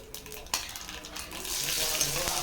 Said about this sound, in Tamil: கடுகு, கடலைப்பருப்பு, பட்டை, கிராம்பு, சீரகம் இதை மட்டும் சேர்த்துட்டு பொரிய விட்டுருங்க